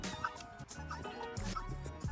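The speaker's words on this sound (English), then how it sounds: "whether you're a turkey or a chicken or a pigeon or a duck, we just coexist in Providence Village" Mixed fowl, turkeys, chickens, pigeons and ducks, milling around a residential neighborhood, with overlapping gobbles, clucks and chatter coming in irregular bursts at moderate distance and fairly low volume.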